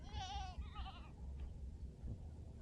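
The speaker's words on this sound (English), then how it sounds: "The old goats here." A mother goat and her kids bleat on a farm in Thailand, two wavering, quavering cries close together at the start, then quieter rustling and faint background noise with no talk.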